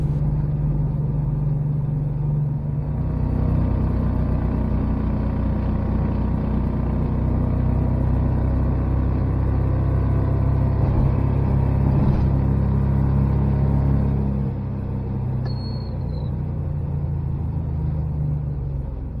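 Renault 670 Predator engine with a new exhaust and CVT clutch, running at full throttle on a road test, giving a loud continuous close rumble that eases slightly toward the end.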